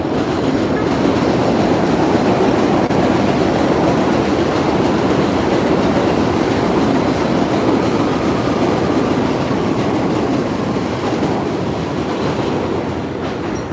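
A train rumbles along rail tracks on a New York City street in the Bronx, a loud continuous roar of wheels and cars rolling past close by, with faint squealing near the end.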